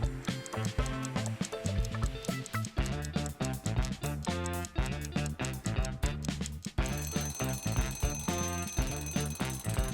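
A countdown timer for a puzzle plays as a loud, steady, rhythmic electronic jingle of repeating beeps and tones, running continuously for about ten seconds with no talking.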